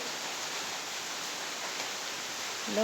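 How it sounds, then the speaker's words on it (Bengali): Heavy rain at night falls as a steady, even hiss, with no break in the sound and no other sounds over it. "ভালোই বৃষ্টি হচ্ছে"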